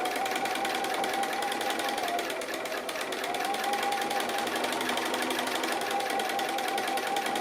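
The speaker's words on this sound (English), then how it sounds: "to do some stitching here" A sewing machine doing free-motion quilting stitches in a continuous rapid mechanical chatter, close and steady for several seconds with a faint tonal whine running through it.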